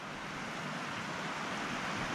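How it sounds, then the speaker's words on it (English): Badger Creek, a trout stream at an empty old campground, flows steadily with a faint, even broadband rush and no other sounds or voices. "There's Badger Creek."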